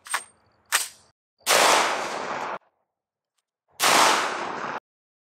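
Rifle shots through an Aero Precision Lahar 30 silencer: two short sharp cracks, then two longer bursts of about a second each separated by silence, loud and close.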